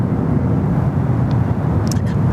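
A Delta airliner taking off at Sydney Airport, heard as a loud, steady low roar of jet engines with no pauses, a few faint brief higher noises near the end.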